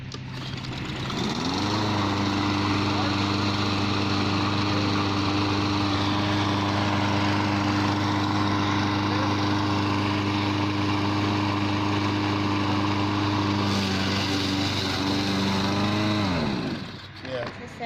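A Black Max 22-inch 3-in-1 self-propelled lawn mower engine starts up and runs at a loud, steady drone close by for about fifteen seconds before shutting down and winding off.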